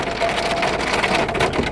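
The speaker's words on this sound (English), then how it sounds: "it's like downpour. Big old fat rain." Heavy downpour of big, fat raindrops pounding steadily on a hard surface outdoors, a dense, continuous wash of loud rain with no pauses across the short stretch.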